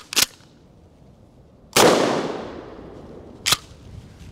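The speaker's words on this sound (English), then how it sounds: "we're shooting it out of the Mossberg Shockwave 590N" A 12 gauge birdshot round fires from a Mossberg Shockwave 590N at a rubber dummy, one loud sharp blast with a long decaying echo, bracketed by two shorter sharp cracks.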